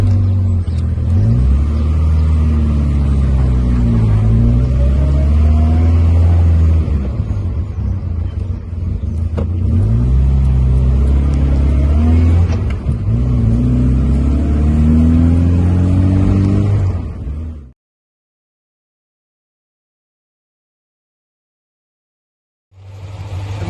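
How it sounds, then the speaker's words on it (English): A 1963 Morris 1000 Tourer convertible drives along with a loud, steady engine note, rising and falling through gear changes, then cuts to silence near the end before the engine briefly returns. "we're off for test driving this little moggy convertible."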